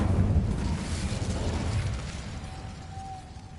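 Spell blasts and a magical explosion in a Hogwarts video game: a heavy rumbling burst up front that decays over a couple of seconds, ending with a thin lingering ring.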